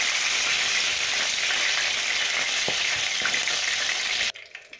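Chicken pieces fry in hot oil for a traditional Bangladeshi morog polao, a steady loud crackling sizzle with scattered pops from close by that cuts off abruptly near the end.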